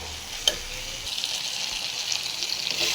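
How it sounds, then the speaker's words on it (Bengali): Jackfruit and potato being stir-fried in a pan, a steady close sizzle with a sharp clink near the start and brief stirring scrapes. "এবার আমি এর সাথে এঁচোড়টা আর আলুটা অ্যাড করে এটাকে দিয়েও ভালো করে কষাবো।"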